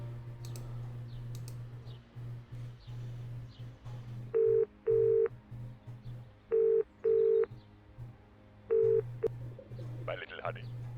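Telephone dialing inside a horror adventure game: six distinct keypad tones in pairs, each a short steady beep, over a constant low hum and faint game ambience.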